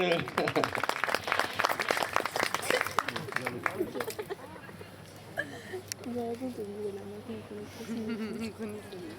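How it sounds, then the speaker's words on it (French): Spectators at a polo match applaud with a burst of scattered clapping that fades after a few seconds, followed by an announcer talking over the distant crowd noise. "Merci, c'est gentil de l'applaudir."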